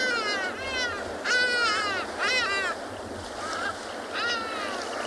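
Hadeda ibises flying past on a coastal beach, a series of loud harsh braying calls in repeated bursts, over a steady background of wind and surf.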